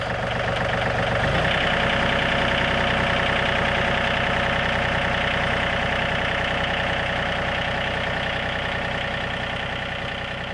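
Tractor engine running steadily and loudly while brush hogging, a continuous droning rumble that shifts slightly in pitch early on and holds for the whole stretch, with no talk.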